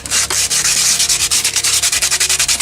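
Fine grit sandpaper rubs quickly over a plastic Nerf blaster part, a close, loud, rhythmic swishing of short strokes in a steady back-and-forth pattern.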